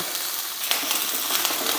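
Steady sizzling and crackling of onions, curry leaves and spices frying in hot oil for a potato fry, close and continuous with small pops throughout, no voices.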